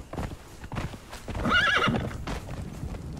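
Horse in the survival game Conan Exiles, with hooves clip-clopping in a steady rhythm and a clear whinny rising midway, close and fairly loud.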